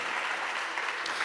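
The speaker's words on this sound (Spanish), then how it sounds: "¿Cuántos damos aplausos al Señor?" A church congregation claps together in a brief, steady burst of applause during a sermon, dense and continuous from start to finish.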